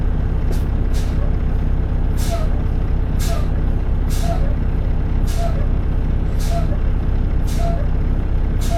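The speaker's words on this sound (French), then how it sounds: "Je repompe les freins." A truck's air brakes are pumped up repeatedly, with sharp hissing air bursts at roughly one-second intervals over a steady, loud engine idle.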